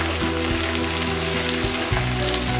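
Spice masala for Kerala-style potato mappas fries in a hot pan with a dense, steady sizzle, broken now and then by soft scraping as it is stirred, close up and without talk.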